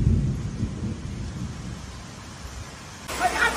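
Heavy rain pours down during a thunderstorm, a steady wash of downpour over deep rumbling thunder that swells at the start and later gives way to a brighter splash of rain.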